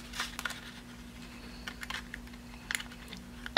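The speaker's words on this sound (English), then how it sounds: "I am cutting my paper." Scissors snipping through planner paper for a Happy Planner, a few short crisp cuts spread across the clip, close and fairly quiet over a steady low background hum.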